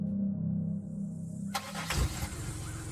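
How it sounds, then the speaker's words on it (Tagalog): A car engine starts: a low steady hum gives way to a sharp crank, then the engine catches and runs with a rougher, louder rumble, nearby and alone. "Parang naririnig ko po may nag-start ng sasakyan."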